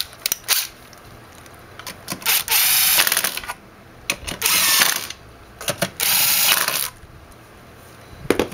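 A ratchet tightens screws on a BMW E36 3 Series alternator cover, loud close clicking bursts of varying length separated by short pauses.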